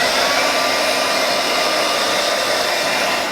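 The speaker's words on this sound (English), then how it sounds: "dry over the top of that with a hairdryer now" A hair dryer blows steadily and loudly, a continuous broadband whoosh with a faint motor whine, no voices.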